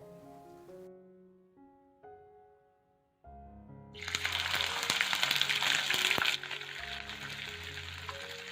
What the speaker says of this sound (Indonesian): dan ikan kita goreng.